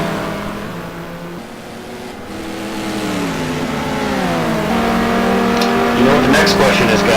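Race car engines in a GT2 racing game at Road Atlanta drone and rise in pitch down the straight, a Porsche among them, loud and continuous with shifting tones and a brief tire squeal near the end.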